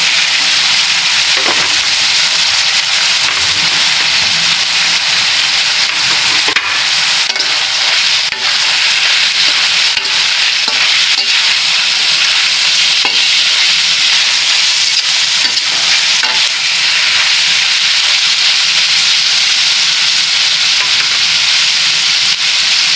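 Chicken strips stir-fried for pancit canton hiss and sizzle loudly and steadily, with the clack and scrape of a spatula tossing them in the hot pan throughout, no voices.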